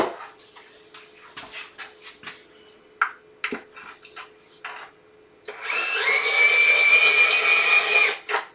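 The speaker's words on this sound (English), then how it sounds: "My drill." A cordless power drill driving a screw into a wooden box in a woodworking shop: several seconds of tapping and handling sounds, then a steady high whine running for about three seconds, close and loud, ending abruptly.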